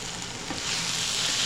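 Aloo gobi methi with potatoes and cauliflower sizzles in a pan as it gets a gentle toss, a soft frying hiss that swells slightly toward the end, close and fairly quiet with no talking.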